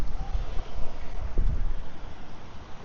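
Steady outdoor wind buffeting the microphone during a plein air painting session by submerged rocks, a continuous low rumbling roar with gusty swells and no voices.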